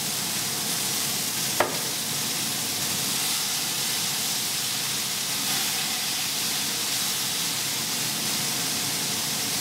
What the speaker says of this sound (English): So we're gonna go ahead and flip the patties.